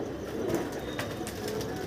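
Roughly sixty-six domestic pigeons fly as one flock, their soft coos and light wing flutter blending into a constant, even murmur that carries from a little way off.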